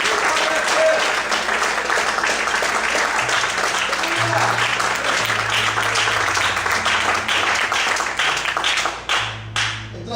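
A church congregation claps loudly and continuously for about nine seconds, with voices mixed in beneath the applause before it trails off abruptly at the end.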